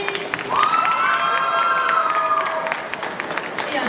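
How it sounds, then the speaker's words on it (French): Loud applause and cheering from a festival crowd at a cosplay contest during a manga convention, with clapping, shouts and a high whooping voice rising over the din, sustained then slowly settling. "Un tonnerre d'applaudissements pour la régie."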